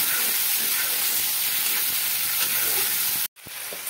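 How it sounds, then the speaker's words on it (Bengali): Spice paste with a splash of water frying in oil over a medium flame for a potato-papaya small mrigal fish curry, giving a steady, loud broadband sizzle and hiss that cuts out abruptly near the end, then resumes. "মিডিয়াম ফ্লেমে রেখে মশলাটাকে আমি কষিয়ে নিচ্ছি।"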